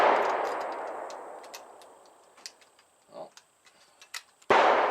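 A 6.5x54 Mannlicher-Schoenauer rifle fires: one loud shot with a long decaying echo, then quieter clinks and handling sounds, then a second sharp report near the end; a brief word is spoken.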